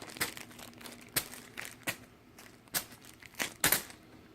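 Plastic pieces from the Pandemic board game crinkle and rustle close by in soft, scattered bursts of crackling, with a sharper crinkle near the end.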